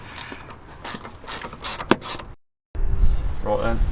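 A cordless electric screwdriver fitted with a 10mm socket loosens a bolt on a Hyundai Kona N during a blow-off valve install, giving a short ratcheting, mechanical whirr. A brief silence follows, then a louder buzzing motor and clicking resume up close.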